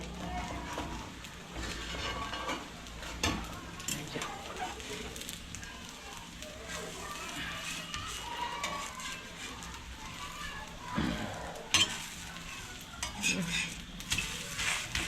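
Dal with jaggery cooks in a pan over a gas flame while a spoon stirs and scrapes it, giving soft sizzling and intermittent clinks of utensil on metal, fairly quiet and steady.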